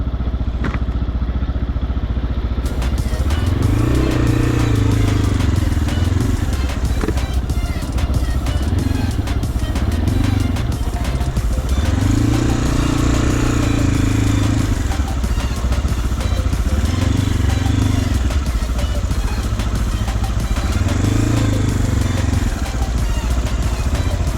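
A motorcycle engine putters and revs in waves as the rider searches for parking at Islamabad's Sunday bazaar, loud and close with a rough rumbling idle, wind buffeting, and a voice underneath.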